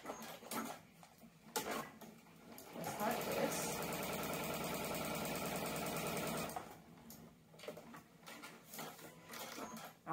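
A sewing machine stitches diagonally across the corner of a quilt block, running in one steady, close mechanical whir for several seconds, with soft handling noises and someone talking before and after.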